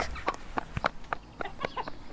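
A rooster clucks in short, repeated bursts, fairly close and clear, the calls spaced irregularly with brief pauses between, and nobody speaking.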